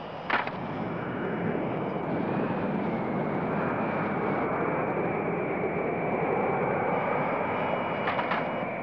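A spacecraft coming in for a soft landing in an animated science-fiction film, a loud, steady engine roar with a high whine above it, a sharp clank at the start and near the end.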